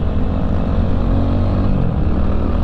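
Engine of a Rusi Classic 250 motorcycle, reckoned to be a two-stroke, running close by as a loud, steady, rough drone that holds its pitch throughout, with no talking over it.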